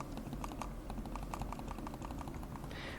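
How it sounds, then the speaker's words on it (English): Typing on a Logitech Pop Keys keyboard at a home desk: a steady run of crisp, close clacking keystrokes over three seconds, fairly even in rhythm, with no voices. "which is the Logitech Pop Keys keyboard, which lets me use like emojis and things"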